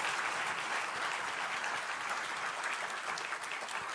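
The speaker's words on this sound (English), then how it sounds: "Give our two panelists a round of applause." Steady audience applause for two panelists at a congressional Medicaid town hall, a continuous dense clapping throughout at moderate level with no talk over it.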